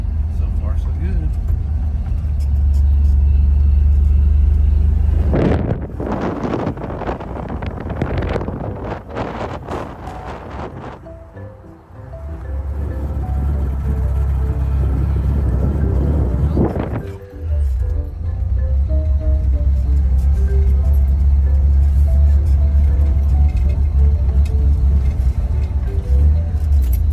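A drag-and-drive race truck's engine drones loud and close with heavy wind buffeting, dropping away twice in brief lulls before the steady roar returns.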